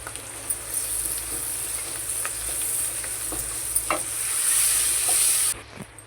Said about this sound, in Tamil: வெங்காயம் லைட்டாக வதங்கினதுக்கப்புறம் பூண்டு ஆட் பண்ணிக்கோங்க